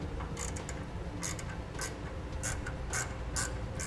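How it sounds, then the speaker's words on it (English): Ratchet with a 7mm socket threading in a bolt on a gooseneck hitch under a 2016 Chevrolet Silverado bed, giving repeated quick clicking bursts in an uneven rhythm, close up. "you're going to want to grab a 7mm socket and thread it in the rest of the way"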